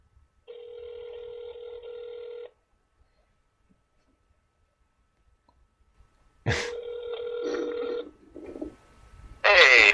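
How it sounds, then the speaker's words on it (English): A phone call connecting: a long electronic ringback tone, a few seconds of silence, then a second tone broken up by clicks and a short burst of noise at the end. "It's ringing."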